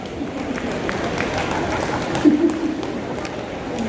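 Audience applause at a comic Hindi poetry recital at the Nauchandi fair, a steady wash of clapping with a slight swell midway.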